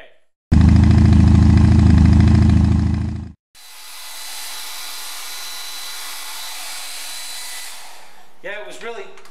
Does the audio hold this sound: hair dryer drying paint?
yes